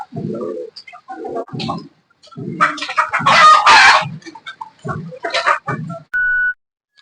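Several chickens cluck and squawk close by in short bursts, with a louder flurry of excited cackling in the middle.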